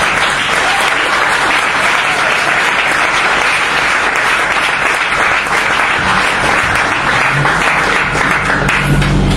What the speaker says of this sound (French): je vous demande s'il vous plaît d'acclamer